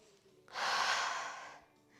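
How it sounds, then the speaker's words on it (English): A slow, deep breath drawn in during a mat Pilates balance and cardio workout, a single broad airy inhale-exhale swelling loudly for about a second, then fading. "Take a deep breath."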